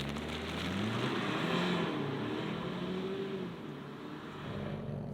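From inside the cabin, a Mazda CX-80 hybrid accelerates hard at full throttle as a steady, loud roar of engine and road noise climbs in pitch, then eases slightly toward the end.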